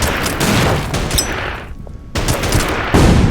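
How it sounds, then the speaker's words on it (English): Rapid bursts of machine-gun and rifle fire crackle loudly in the strategy game Order of Battle Blitzkrieg, with dense overlapping shots, a brief lull, then renewed volleys. "I'm going to open fire on this unit."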